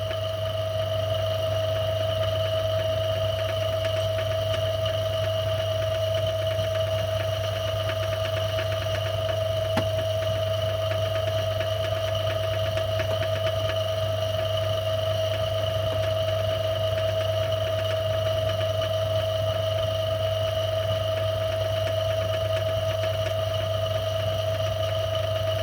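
An old metal lathe drilling a hole at slow speed gives off a steady, continuous motor hum with a constant whine and faint mechanical rumble, running unchanged throughout with no talking.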